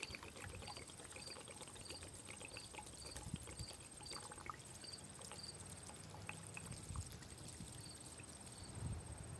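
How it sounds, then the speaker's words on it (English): Alcohol trickles softly onto a bushcraft pain remedy outdoors, a quiet, steady pour set under constant high insect chirping and faint background noise. "It's always good to add alcohol."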